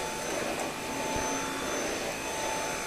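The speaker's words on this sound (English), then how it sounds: "we'll just vacuum a little bit here" A Dyson V8 stick vacuum cleaner runs steadily with a constant whirring, whining motor hum and broadband airflow rush, fairly close and uninterrupted for a few seconds.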